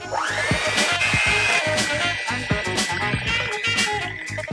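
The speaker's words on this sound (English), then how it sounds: "if you want it really smooth and creamy, that's how I like my mashed potatoes. I'm gonna get the mixer and beat it up" An electric hand mixer whirs steadily as it beats a bowl of mashed potatoes, a loud, continuous motor drone with faint rattling and no voices over it.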